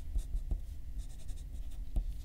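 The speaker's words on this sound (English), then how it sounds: "I'm going to do my name in pencil, and then I'll write it" Pencil scratching across paper while a name is written for a prairie dog art project, soft close strokes with a few sharper taps, heard alone.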